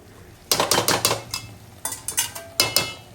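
A metal lid set down on a cooking pot of Agri-style prawn rice, giving a series of close, sharp clinks and rattles in three quick bursts with brief pauses between.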